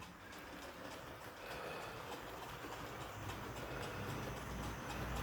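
A Triang Hornby model train, a green Brush Type 2 locomotive, runs along toy track with a steady low rumble and faint rhythmic ticking of the wheels, growing slightly louder over several seconds.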